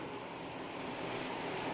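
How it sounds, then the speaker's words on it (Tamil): A chicken masala mixture bubbles and simmers in a pan, giving a soft, continuous bubbling hiss with faint popping, fairly quiet and steady throughout. "இது இப்போ நல்லா கொதிச்சு வரட்டும்"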